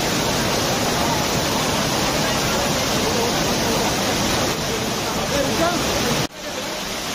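A waterfall near Kanhe Khandi Road outside Pune pours in a loud, steady broadband roar that fills the scene close up, with a sudden dip near the end as the sound drops away.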